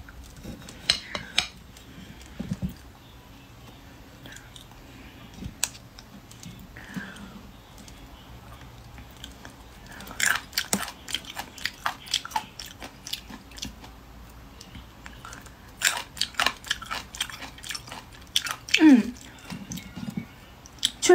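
Someone bites and chews old, coarse cucumber dipped in salad dressing, with close crisp crunches and wet squishy chews arriving in irregular bursts, plus occasional clinks of cutlery or dishes, and no talking.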